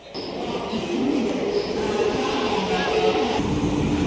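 A train stands at platform seven of Vasai Road station, a low steady rumble of rail noise under station bustle, with people talking nearby.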